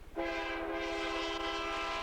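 A fast, long freight train passes a road crossing, its horn sounding a loud sustained chord over rhythmic wheel clatter, close and steady after a brief rumbling lead-in.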